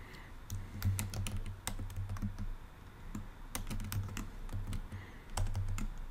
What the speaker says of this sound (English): this is where I can type in what I want it to be for my name